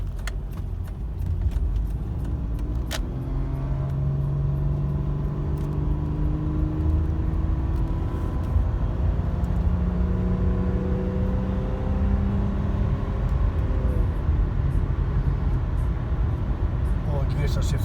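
A Subaru car on a test drive after a transmission fluid flush, engine note rising and falling through gear shifts with a steady road whir, loud and close throughout.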